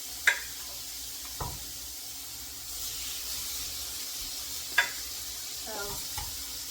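Shrimp sizzling in a hot pan while pasta Alfredo is being cooked, a soft steady hiss with a few sharp clinks and scrapes of stirring. No one speaks.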